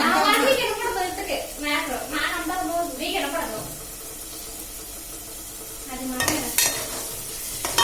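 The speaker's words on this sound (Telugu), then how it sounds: "ఉల్లిపాయ ఇంకా వేగాలి. బాగా రోస్ట్ గా వేగితే దానికి ఏంటంటే ఇది తీపిదనం రాదు, కమ్మగా ఉంటుంది." Onions roasting and being stirred in a pan for an egg and drumstick curry, with a steady sizzle, scraping stir strokes and a brief splash of water near the end, under a speaking voice.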